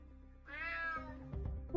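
A single drawn-out cat meow, close and fairly loud, rising then falling, followed by a few faint rustling knocks.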